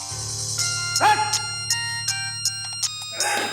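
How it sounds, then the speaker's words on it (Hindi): A mobile phone ringtone rings indoors, a steady melodic electronic tune that repeats its short notes, fairly quiet and with no talk over it. "आपका फोन का रिंग बज रहा है।"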